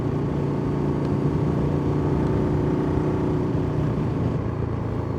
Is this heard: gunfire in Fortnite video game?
no